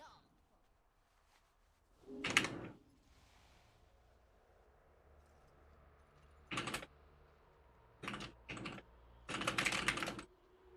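Typing on a computer keyboard in separate short bursts of quick clicks, fairly close and moderately loud, with quiet pauses between bursts over a low background hum.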